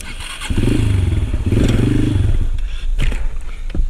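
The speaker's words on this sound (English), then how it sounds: "I hit the brake and it stalled the engine" A motorcycle ridden for wheelie practice brakes hard: the engine runs loud and steady for about two seconds, then drops away as it stalls, followed by a few scattered clunks and thuds close by.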